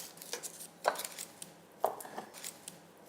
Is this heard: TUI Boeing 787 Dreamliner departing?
no